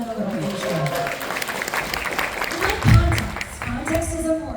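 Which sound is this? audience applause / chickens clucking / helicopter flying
audience applause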